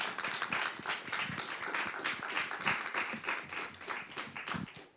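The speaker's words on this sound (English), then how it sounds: "Can I get a round of applause?" An audience applauds panelists at the close of a panel discussion on tackling loneliness among young Londoners, dense continuous clapping from a crowd for about five seconds, fairly loud and evenly sustained, no speech.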